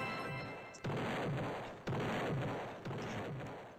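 Goal explosions in a car soccer video game, three loud booming blasts about a second apart, each one fading into a rumbling roar.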